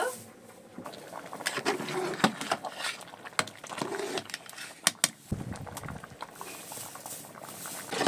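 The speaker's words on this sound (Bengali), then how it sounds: "খিচুড়ি কিন্তু বলক চলে এসেছে আমি এখন নাড়াচাড়া করবো" Vegetable khichuri bubbling in a pot while being stirred, a wet simmering patter broken by sharp spoon knocks and scraping against the pot, close and moderately loud with no voices.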